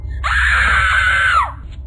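A woman's single sustained scream, loud and close, rising sharply and held for over a second before breaking off, a horror-story effect of a woman shrieking at the sight of a rotting corpse, over a low droning background.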